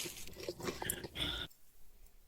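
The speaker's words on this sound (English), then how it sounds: "I still get the crunch from the actual corn dog." Someone bites into a corn dog dipped in honey mustard, a close, crisp crunching and chewing for about a second and a half before falling quiet.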